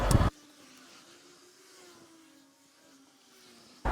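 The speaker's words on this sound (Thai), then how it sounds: "เมื่อกี้ที่สว่านมันปืดปืดอ่ะ" A power drill's motor hums in a steady, fairly quiet whine for a few seconds, framed by brief louder clunks at the start and end, as it tightens a bolt on an Isuzu D-Max steering wheel.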